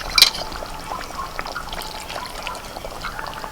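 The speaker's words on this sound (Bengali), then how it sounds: "গ্রেভিটাকে একটু মোটা করার জন্য আমি এর মধ্যে এক চামচ কর্নফ্লোর গুলো দিয়ে দিচ্ছি" Cornflour slurry poured into simmering lemon chicken gravy, a brief close liquid pour with a small splash at the start, then soft trickling and bubbling, quiet, no voices.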